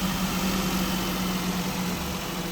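A used car's engine idles at a showroom, a smooth, steady low hum with an even tone and no misfires, close and continuous on its own.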